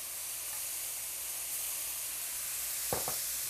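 Onion goes into a hot pan of mushrooms for a mushroom barley risotto, a steady close sizzle and hiss with a couple of brief clinks near the end.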